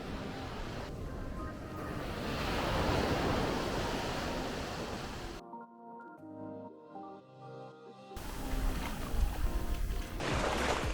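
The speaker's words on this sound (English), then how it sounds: "This has got to be the best beach I've ever seen." Surf washes onto the sand at Maya Bay in the Phi Phi Islands, a broad rushing swell that rises and falls over a few seconds, briefly giving way to a quieter stretch before the roar returns.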